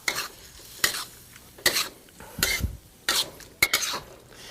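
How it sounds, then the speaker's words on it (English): A vegetarian scramble with cream and black pepper gets its final stir in a pan, heard as about six distinct scraping strokes of a utensil against the pan over a soft background sizzle. "black pepper, your cream, give it a final stir."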